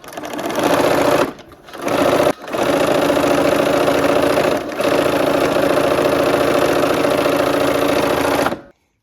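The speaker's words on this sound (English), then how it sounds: "we're gonna go ahead and sew this last strip set" A sewing machine stitches a lime and blue quilt strip set, a steady loud mechanical whir running in long bursts with a few short pauses between runs, then stopping.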